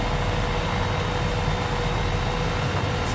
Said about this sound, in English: This is quite a quiet helicopter, I should say.